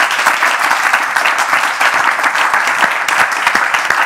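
Studio audience on a French talk show applauds loudly and steadily, a dense wash of many hands clapping close by with no letup.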